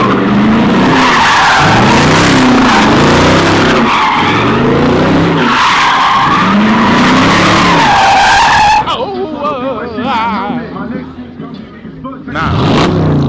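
An RC car carrying a Hellcat logo skids and squeals its tires at a car meet with a crowd. Long loud sweeping skids repeat, then fade to crowd noise before another squeal returns. Voices are heard throughout.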